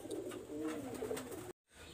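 A red-eyed pigeon coos close by in a loft of Pakistani high-flyer pigeons, a soft rolling call lasting about a second and a half before cutting out abruptly.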